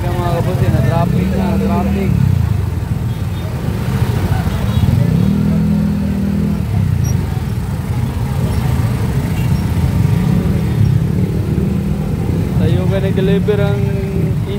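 Road traffic of cars and motorcycles in Minglanilla, South Cebu, with engines humming and rising in pitch as they pass, loud and close under a steady mix of street noise and people talking.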